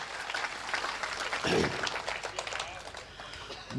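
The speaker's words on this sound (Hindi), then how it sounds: "बस एक बार मेरा मन रखने के लिए तालियां बजा दीजिए" A crowd at a Hindi kavi sammelan poetry recital applauds with steady, moderately loud clapping, with a brief thump near the middle and voices talking through it.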